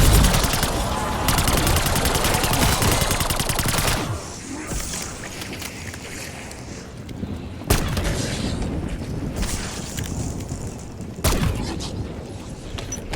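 Powerful pack-a-punched pistol fire in Call of Duty zombies on the Terminus map: a dense volley of loud shots opens the clip, then single sharp blasts ring out at intervals over quieter game ambience.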